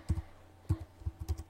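A few separate keystrokes on a computer keyboard, close and quiet. Two brief clusters of taps come first, then a quicker run of four or five clicks, all heard alone.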